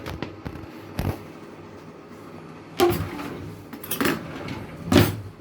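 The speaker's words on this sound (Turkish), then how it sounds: "Daha sonra bunu karıştıracağız." A spoon stirs a potato mixture for baked potato baguettes, giving several separate scraping clinks against the bowl, sharp and close, spaced irregularly with quieter gaps between them.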